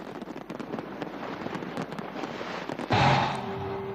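Crackling bangs and pops of New Year's fireworks in London rise over a noisy crowd, ending in a louder burst with a lingering whistle-like tone.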